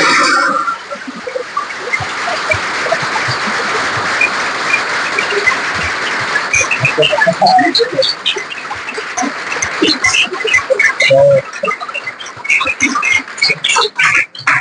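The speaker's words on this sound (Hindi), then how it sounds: "एक बार जोरदार तालियां सर के लिए।" Students give a speaker loud applause at a Pariksha Pe Charcha exam-discussion event: a dense, roaring burst of clapping that later thins into choppier, scattered claps and shouts toward the end.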